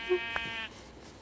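A sheep in the video game Minecraft gives one short, nasal bleat lasting about half a second, heard close over faint background noise.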